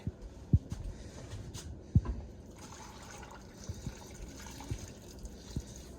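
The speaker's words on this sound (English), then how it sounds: "Now we're gonna put some water in the blender." Water is poured into a blender for strawberry popsicles, a soft liquid trickle broken by a few dull knocks.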